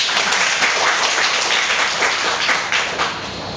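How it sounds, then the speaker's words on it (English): An audience applauds a speaker with dense, sustained clapping that stays loud and even throughout, with no voices on top. "I hope that you give me one more applause so that I can gain my confidence."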